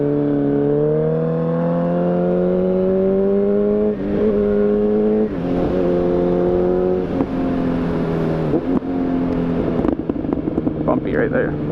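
A Mustang drives and accelerates, its engine drone rising steadily in pitch with brief dips between gear changes, loud and close throughout with no talk.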